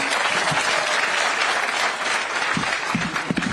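A crowd at a Kenya Kwanza political meeting in Nairobi County gives steady, dense applause, close and even throughout the short burst.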